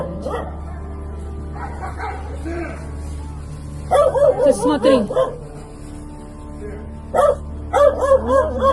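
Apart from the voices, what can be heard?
dog barking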